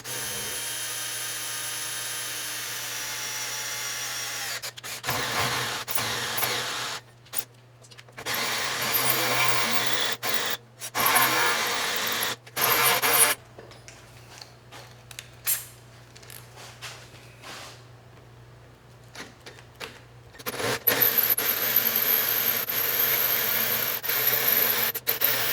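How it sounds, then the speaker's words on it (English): A power drill whines in bursts, starting and stopping repeatedly with short pauses, loud and close, grinding into a metal plug on a Panhead motorcycle. "this ought to be interesting to drill too"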